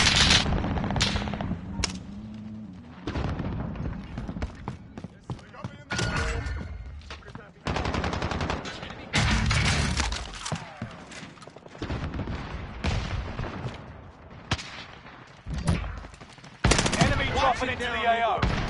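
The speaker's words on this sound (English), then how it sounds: "Shit, under heavy fire here." Heavy gunfire in the Call of Duty Warzone video game comes in loud, sharp bursts and rapid automatic volleys separated by brief pauses, with voices speaking between the shots.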